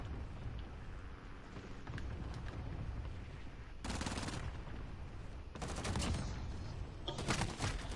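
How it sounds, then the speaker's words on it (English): Automatic and single gunfire in Call of Duty: Modern Warfare, heard as dense, sustained bursts of shots with louder volleys near the middle and end, set against a constant game backdrop. "I love just the sheer range I can get with this gun"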